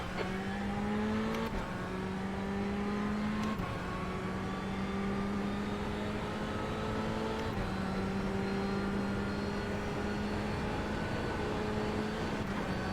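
GTE race car engine in a racing video game at Sebring, a loud, steady high-revving drone that climbs through gears with several quick shift breaks, no talking.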